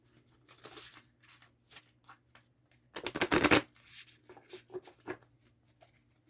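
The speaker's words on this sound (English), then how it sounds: "watch me shuffle for these 3 decks" Tarot cards being shuffled in quick riffles and taps, with a louder burst of riffling in the middle, close and crisp with no voices.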